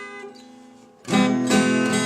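Delta blues guitar lick, a quiet plucked phrase that swells into louder strummed, ringing notes after about a second, played alone with no voices.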